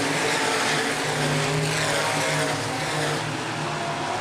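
Open-wheel modified race cars roar around Angola Motorsport Speedway during a feature race, a steady, dense engine drone from the pack that holds loud and unbroken throughout, with no voices.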